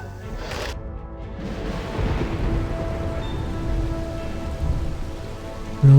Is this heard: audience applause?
no